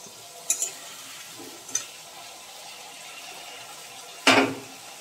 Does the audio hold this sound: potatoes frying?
yes